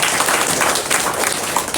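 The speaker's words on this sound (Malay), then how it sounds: "Bagi tepukan untuk Walton ni" A seminar audience applauds, with dense, steady clapping from many hands filling the room for a short burst.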